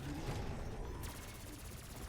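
Rapid gunfire from a player shooting at a boss's hands in Black Ops 6 Zombies, Citadelle des Morts, a dense continuous barrage of shots that stays steady and loud throughout.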